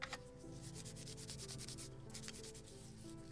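Steady back-and-forth sanding of a basswood part for a model gunboat, a continuous close scratchy rubbing with no pauses and no talk.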